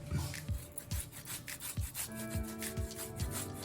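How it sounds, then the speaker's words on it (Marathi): Guava being grated by hand on a grater, six or seven rhythmic rasping strokes at a steady pace, close and clear with no talking. "आता हे आपल्याला किसून घ्यायचे"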